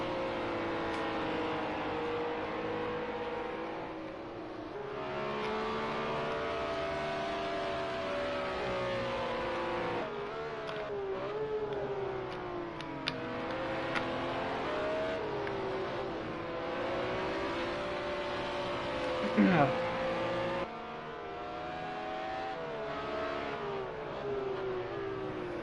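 Pro race cars in a racing game league final drive around a track, engines droning and rising and falling through gear changes, with a brief burst of sharper noise near the end, steady and moderately loud.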